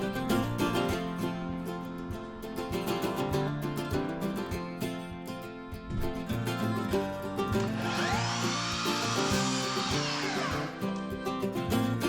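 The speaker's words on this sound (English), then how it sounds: "I'm putting a little bevel on the edge of the wood before I install it" A power tool bevels the edge of a wood trim board for a corrugated tin ceiling frame, giving a steady close whine with a rising, sweeping higher tone partway through as it cuts, and no talking.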